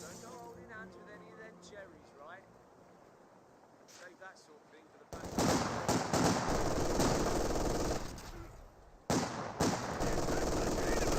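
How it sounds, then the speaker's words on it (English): MG42 machine gun fire in the strategy game Company of Heroes 2, long loud bursts of rapid automatic shots following quieter battlefield sounds, with a commentator talking over the opening. "And MG42 does find some good suppression there on top of the raid section"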